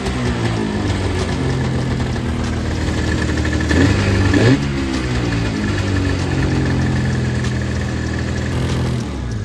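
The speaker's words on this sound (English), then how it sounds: "it's idling right" A snowmobile engine idles close by at a steady mid-pitched throb. A slight surge comes partway through, then it settles back into an even, continuous idle with no talking.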